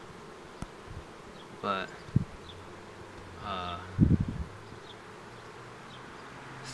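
Honeybees from a newly arrived swarm fly around the hive outdoors, their buzzing passing in a few brief, faint bursts against quiet background, with a person speaking briefly.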